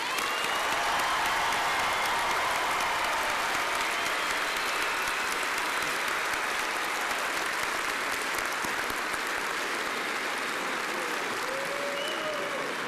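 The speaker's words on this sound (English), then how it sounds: "These graduates too deserve our applause and commendation." Sustained audience applause at a 2017 spring commencement ceremony for newly graduated doctoral degree holders, a dense, even roar of many hands in a large hall lasting the full stretch, with no speech over it.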